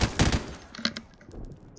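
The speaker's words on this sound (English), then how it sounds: "you can see there, I just put down a lot of bullets" An M249 SAW light machine gun fires in the video game Call of Duty 4, a quick burst of rapid shots at the start followed by scattered fainter gunfire and impacts.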